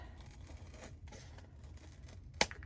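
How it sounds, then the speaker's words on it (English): A faint, steady rasp of scissors snipping through paper, ending in one sharp click, with no voices. "So I'm just going to take my scissors"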